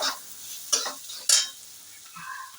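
Village corn chivda being stirred in a frying pan: two sharp scraping strokes of a spatula over a low crackling sizzle, close up, with a faint clink near the end.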